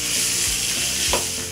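Grated raw mango dropped into hot oil in a pan, frying with a loud, dense, continuous sizzle close by, with a few low knocks of a spoon.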